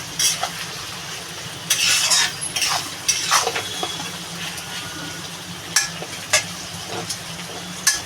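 Onions frying in a pan with a pinch of salt, a steady sizzle broken by scraping stirs and clinks of a utensil against the pan, no voices.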